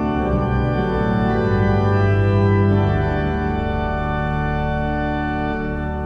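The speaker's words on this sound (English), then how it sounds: "And then with the 16-foot stops." Pipe organ at Romsey Abbey sounds with 16-foot stops added to the diapasons, giving a deep, rich bass under sustained chords that hold loud and steady throughout.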